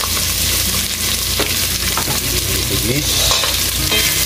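Red and white onions with chili sizzle loudly in a pan, a dense continuous frying hiss broken by stirring scrapes and clinks.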